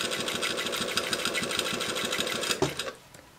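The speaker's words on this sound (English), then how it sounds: "I'm gonna sew this curve" A sewing machine stitches a curved seam on the front of a pair of jeans: a fast, steady, close-up mechanical chatter that runs unbroken, then stops abruptly near the end, leaving quiet room tone.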